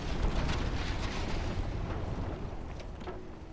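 A torpedo strikes the bow of the ship Powerful in Ultimate Admiral: Dreadnoughts, a heavy, rumbling explosion that booms at once and slowly fades over a few seconds, with no talking.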